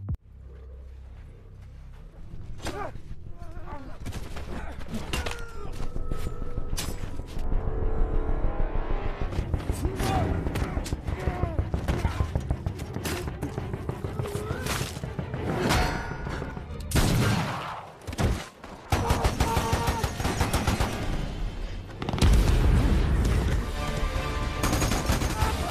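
Battle gunfire between soldiers in a war film, with bursts of shots, vehicle rumble and explosive impacts running loud and dense throughout, broken by brief lulls.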